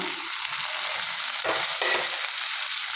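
Onions fry in a pan until brownish, giving a steady, close hiss of sizzling oil with brief stirring scrapes partway through.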